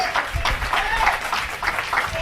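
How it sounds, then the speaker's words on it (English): Congregation clapping hands in praise during a church sermon, a dense, steady patter of many hands sustained throughout at moderate loudness, with faint voices mixed in. "Can you clap those hands and give God praise?"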